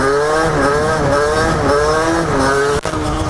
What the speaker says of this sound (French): vous faites monter votre moto et vous tirez